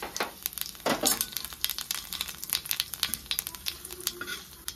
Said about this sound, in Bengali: এবারে ওই তেলের মধ্যেই দিয়ে দিচ্ছি কালো জিরে আর শুকনো লঙ্কা ফোড়ন